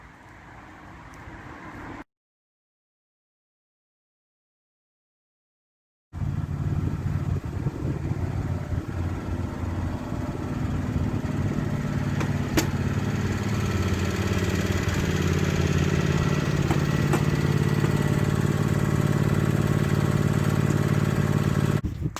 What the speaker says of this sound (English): just pulled the little red tractor out of the garage